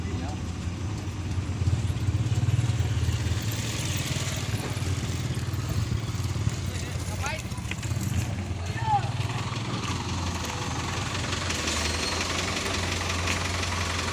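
A rough truck engine idles steadily up close with a knocking, uneven rumble, while people talk over it.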